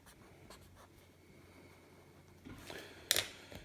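Handwriting of letters with a pen on paper, faint scratchy strokes that grow busier toward the end, where a sharp tap or click stands out, quiet and close with no speech.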